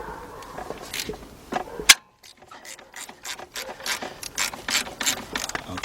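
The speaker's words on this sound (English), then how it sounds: "what I have here is a 1/2 inch 3/8 drive deep socket. And what I'm gonna do is loosen up this top bolt first." A ratchet fitted with a 1/2 inch, 3/8 drive deep socket loosens the top bolt during an alternator replacement on a 1986 Mercury Marquis 3.8, giving loud, rapid clicking strokes close by with a brief pause between runs.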